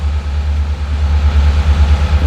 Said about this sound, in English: this thing has such a nice mellow idle.